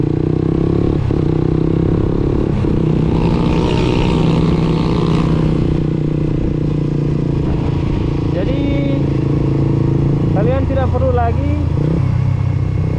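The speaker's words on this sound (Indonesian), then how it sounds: "dengan quick shifter kalian tidak perlu lagi tarik kopling, tidak perlu lagi turunkan gas, jadi langsung injak-injak saja" A motorcycle fitted with a quickshifter revs hard and shifts up without the clutch, the loud engine note rising and dropping in quick steps with brief cuts at each gear change, close and continuous, with someone talking over it.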